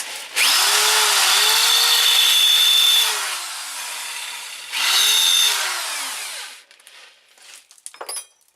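Power drill boring with a cheap Menards drill bit while working on a Geo Tracker, two sustained whining runs of several seconds each with the motor pitch rising and falling, then faint clicks and handling noises, close with no talk.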